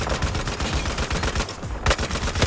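Rapid automatic gunfire in a Battlefield 4 match, loud and close, a continuous chatter of shots with brief gaps and no talking.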